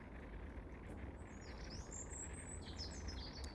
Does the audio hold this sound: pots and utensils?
no